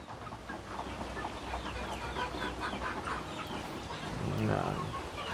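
Rhode Island Red chickens clucking softly in a yard around feeding time, a busy overlapping scatter of clucks at a moderate distance with faint voices in the background.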